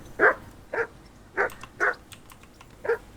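A dog barks repeatedly in the medieval video game Kingdom Come: Deliverance II, five or six sharp, evenly spaced barks at moderate distance with no talk over them.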